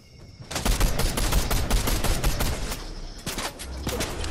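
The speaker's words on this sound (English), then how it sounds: "Keep shooting." Rapid gunfire in a Fortnite trio match, dense bursts of shots crackling almost continuously at close range, with a brief lull before more volleys resume.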